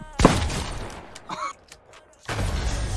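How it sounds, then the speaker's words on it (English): A single loud gunshot bursts out in a video game, sharp and close, followed by mechanical clicks and a brief metallic rattle, then a burst of rushing noise as game sounds resume. "Damn, that was one gunshot too."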